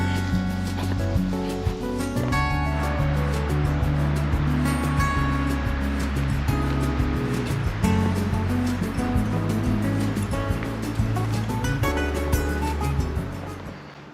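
A river in the Hérault countryside of southern France rushes steadily, a loud continuous wash of flowing water with a low rumble underneath, lasting throughout with no voices.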